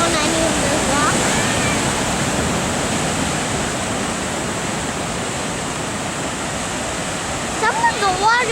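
Big ocean swells surge and crash along a rocky shore on a northern beach path, a loud continuous roar of churning water filling the scene, with voices briefly calling out near the end.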